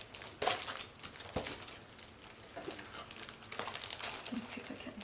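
Sheets of decorative planner paper crinkle and rustle in bursts while being handled during an unboxing, close and fairly loud, with no talking.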